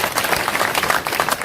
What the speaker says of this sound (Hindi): सबके लिए आप ताली बजा दीजिए।